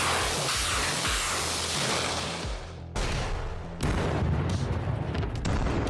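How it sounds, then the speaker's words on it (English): BM-21 Grad rocket artillery fires on an advancing armored column in the Ukraine war: a dense, continuous roar of launches and blasts, loud throughout, with sharp cracks and a rise in intensity near the end. "BM-21 Grad were deployed to attack the column."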